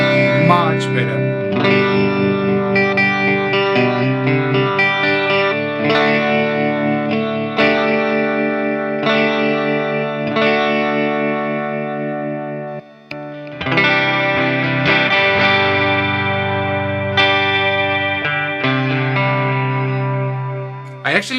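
Electric guitar played through a Hughes & Kettner GrandMeister DLX 40 amp, ringing sustained chords with chorus and delay shimmer, steady and upfront, one brief dip midway before the strumming resumes.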